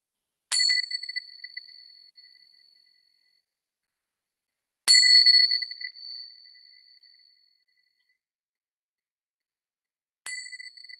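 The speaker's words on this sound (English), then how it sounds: "And at the sound of the bells," Three clear strikes of a meditation bell, each ringing out and slowly fading, spaced several seconds apart in near silence.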